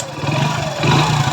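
A repaired motorcycle engine runs close by with a steady, throaty hum, then rises into a short rev near the end.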